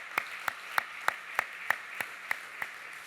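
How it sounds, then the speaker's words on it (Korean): A church congregation claps together during a Sunday worship service, about ten evenly spaced, crisp claps in a steady rhythm, fairly quiet against a faint low hum. "함께 박수하도록 하겠습니다"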